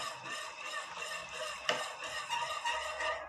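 Hot muhallebi pudding with melted butter stirred in a pot, a continuous soft swishing with light scraping of the spoon and one brief knock partway through.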